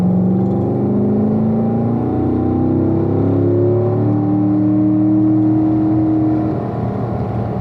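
A car on a racetrack accelerates out of a corner, its engine note climbing and rising in pitch through the gears, loud and close throughout with a slight easing near the end.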